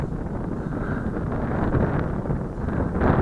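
Wind gusting across an open field where a WLToys F959 Sky King three-channel RC airplane is being flown, a steady loud roar buffeting the microphone with no talking.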